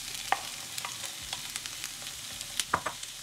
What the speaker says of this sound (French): Maintenant que les oignons ont commencé à cuire, je vais pouvoir ajouter la viande hachée